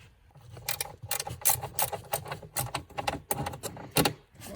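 A ratchet spanner loosens a nut on the rear light cluster of a Vauxhall Mokka, giving a run of close, quick clicking bursts with metallic rattles and short pauses between strokes. No one speaks.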